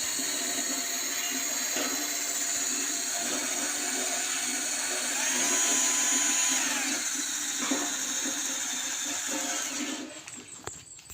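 A steady high-pitched power drill whine runs continuously while twisting nylon line for a wild-fowl snare, with a brief rise in pitch midway before it winds down near the end.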